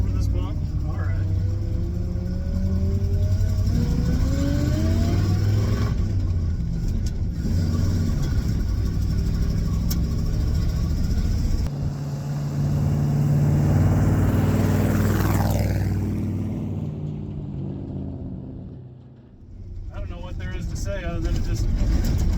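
A 1972 Ford F750 heavy truck on leaf springs rumbles over bumpy ground, its engine loud and close, surging and easing as it rolls, with people talking over it.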